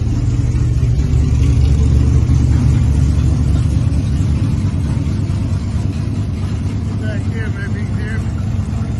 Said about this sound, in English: Coming up from the house, I just touched the gas.